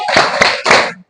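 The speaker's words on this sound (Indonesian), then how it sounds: "Kita kasih tepuk wow ya untuk kelompok visual dan Damar." A class does a rhythmic 'tepuk wow' group clap, with three loud, close bursts of many hands clapping together before it cuts off abruptly.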